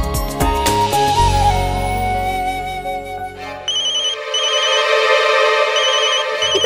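A mobile phone ringtone plays loudly as a busy electronic melody that thins into a repeating high chiming pattern, heard alone in an indoor drama scene.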